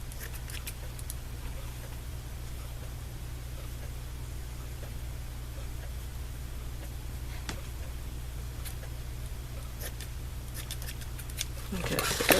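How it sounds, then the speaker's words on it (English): Scissors snip through cheesecloth during a junk-journal craft session, cutting three pieces. A few faint, scattered snips sit over steady broadband hiss, with a slightly louder cutting burst near the end. "a bit of cheesecloth. I'm gonna cut 3 pieces"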